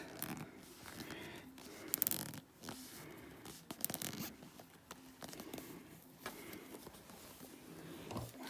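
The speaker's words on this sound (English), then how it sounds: "pull the zip tie tight, making sure it's in that ridge there" A zip tie is pulled tight on a reborn baby doll with a run of close, scratchy ratcheting zips and rustles. They come in bursts across several seconds, with handling noise between them and no talking.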